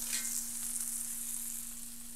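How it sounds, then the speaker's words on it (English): Jerk pork searing in oil in a pan gives off a soft, even sizzling hiss that holds steady for a couple of seconds, fairly quiet and with no talking. "Sear it off on all sides."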